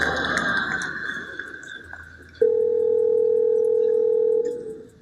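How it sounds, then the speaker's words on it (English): A phone call placed by Google Assistant to a hair salon: a steady, loud ringback tone starts partway through and holds for about two seconds, after faint background chatter and noise. "what you're going to hear is the Google Assistant actually calling a real salon to schedule the appointment for you."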